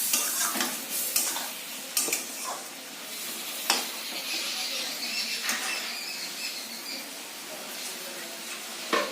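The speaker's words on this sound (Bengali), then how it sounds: "এটাকে এখন ভালো করে জলটাকে মিশিয়ে নিব" A spoon stirs water into a bean and potato curry with ground nut paste in a pan, with irregular scraping strokes and clinks against the metal over a soft sizzle, close by.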